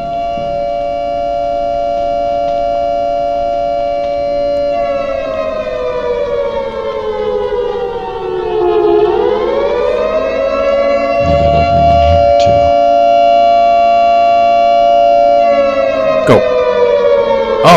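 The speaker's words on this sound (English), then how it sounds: "Could do that siren, like air raid siren." An air raid siren wails loudly in a game, a long sustained rising and falling tone that dips and swells again, with a few brief thuds and clicks breaking in.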